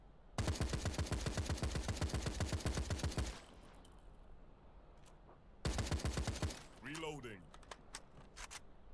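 Two long bursts of rapid automatic assault rifle fire in the shooter video game Citizen Conflict, loud and close with evenly spaced shots, separated by a quiet gap, followed by whooshing in-game effects and clinking sounds.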